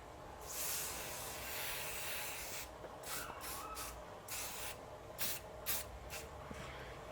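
Hair spray from an aerosol can is sprayed onto a man's hair while styling, with a long soft hiss followed by several short quick bursts, all fairly quiet and close.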